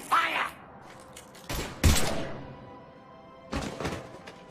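Gunfire in the Mass Effect 3 video game, a few separate loud bursts of shots spread across a few seconds, close and sharp, with game sound in between.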